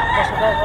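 A rooster, a young stag gamecock, crows loudly and close at hand in a single brief burst, with a faint voice in the background.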